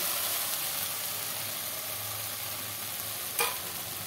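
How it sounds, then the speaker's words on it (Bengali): Onions fry in a pan with chilli paste for an omelette kosha, making a steady, even sizzle. A single clear scrape of stirring comes near the end, and no one talks. "এবার আমি লঙ্কা বাটাটা দিয়ে দেবো"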